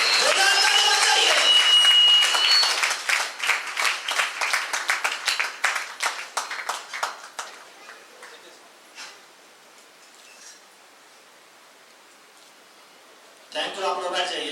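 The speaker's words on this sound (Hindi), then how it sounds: "जोरदार ताली बजाइए, जोरदार ताली बजाइए सबके लिए" Loud clapping from a crowd at an Indian business-plan presentation, a thick burst of many hands that breaks into scattered, uneven claps, fades out to near silence, then swells again briefly at the end.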